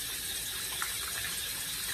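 Fresh water poured over a soapy shaving brush and left to drain, a steady broadband hiss of running water close by with no break.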